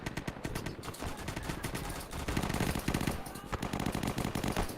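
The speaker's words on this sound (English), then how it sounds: "That's a powerful rifle." Rapid, dense gunfire in the World War II game Easy Red II, a continuous rattle of rifle and automatic shots with crackling impacts, loud and sustained throughout.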